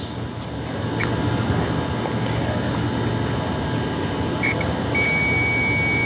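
A steady high-pitched multimeter continuity beep sounds continuously with short gaps, over a loud background hum, while testing an electric kettle with no power.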